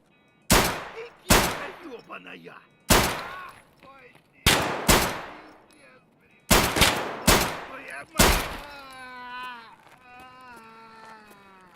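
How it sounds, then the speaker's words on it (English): Loud, close gunshots from Escape From Tarkov crack out in sharp single and double bursts with brief echoing tails and silence between, followed by a wavering, moaning tone. "There was some real bad shooting."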